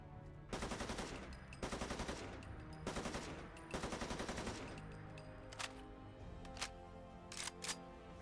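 Custom gunshot sounds from a Fallout 4 weapon mod ring out in quick bursts of rapid automatic fire, four sharp volleys followed by a few single cracks, crisp and close against a quiet game backdrop.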